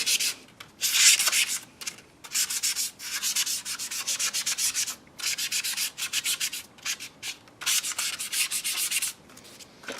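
Sandpaper rubs over the plastic of a 1/48 Tamiya F-14A model kit in quick, close, repeated strokes, with short pauses between bursts and no voices.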